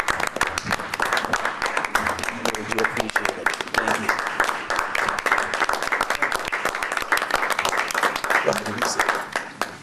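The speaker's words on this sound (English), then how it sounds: "I would just like to take this moment to give them a round of applause." Applause for village staff at a special board of trustees meeting, sustained clapping filling the room over about ten seconds, with a speaker's voice talking over it.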